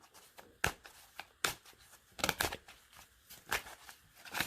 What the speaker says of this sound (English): So I'm just shuffling your cards here.